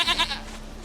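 A goat in The Witcher 3 lets out a short wavering bleat in two quick pulses, close and clear, fading into a quieter game ambience.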